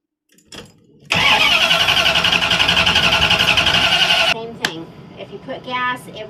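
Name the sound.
van engine cranking, starting but not staying running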